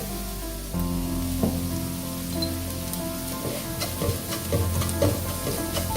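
Coriander powder is stirred into curry leaves frying in oil for a Kerala-style beef fry, giving a steady sizzle broken by repeated spatula scrapes close by, with no talking.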